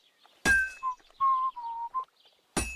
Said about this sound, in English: Is he whistling the theme of KCD1?